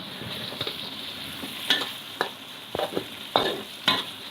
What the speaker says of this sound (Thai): หมูสับเมื่อกี้ที่เราสับไว้มาผัด ผัดให้หมูสุกนะคะ